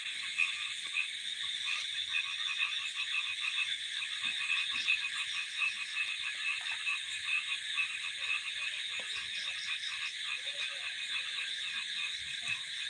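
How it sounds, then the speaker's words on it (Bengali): Frogs croaking in a dense outdoor chorus, a continuous, even, rasping trill that carries at moderate distance and runs unbroken throughout, with no voices over it. "দেখ সব ডাকতেছে ব্যাং আওয়াজ পাচ্ছিস"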